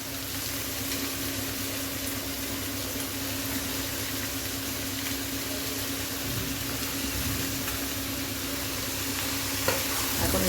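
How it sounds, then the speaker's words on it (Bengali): Cabbage, tomato and beans fry in a wok with a constant close sizzling hiss, a few faint stirring scrapes near the end. "আর সব সবজিগুলো আমি দিয়ে দিব আস্তে আস্তে। বাঁধাকপি,"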